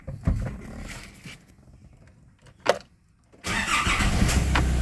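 A 2009 Nissan Navara 2.5 SE pickup's engine cranks and fires: a few quiet seconds with a brief burst, then the diesel catches and settles into a loud, steady idle close by.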